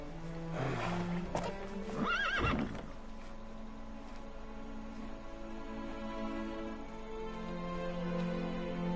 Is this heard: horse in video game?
yes